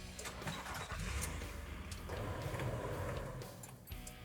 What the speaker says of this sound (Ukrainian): перезбуджуємо наш GS800. Друга спроба. Запускаємо.